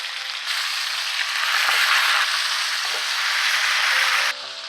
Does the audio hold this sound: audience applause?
no